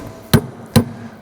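Two light, sharp metallic taps about half a second apart as a steering line part is gently tapped into place on a Ford Fox Body car, close and clear.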